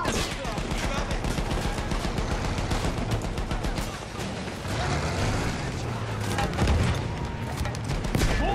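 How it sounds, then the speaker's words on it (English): Dense, continuous barrage of gunfire and explosions from the World War I shooter game Battlefield 1, with rapid rifle and machine-gun bursts and heavy booms rolling on without pause for the whole stretch. "There are things exploding around me."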